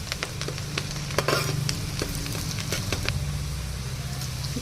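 Onions fry in oil with a steady close sizzle, broken by sharp crackles and pops and a brief louder burst of spattering.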